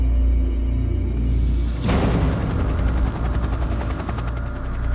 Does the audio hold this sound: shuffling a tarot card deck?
no